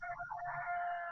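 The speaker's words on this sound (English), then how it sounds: "There's the rooster crowing." Rooster crowing somewhere in the neighborhood, a faint, distant, drawn-out crow heard on its own.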